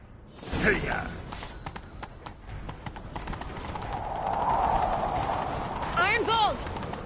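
Horse hooves clip-clopping at a gallop in The Witcher 3 video game, a steady rhythmic drumming with a whinny near the start, under game dialogue and rising ambient noise.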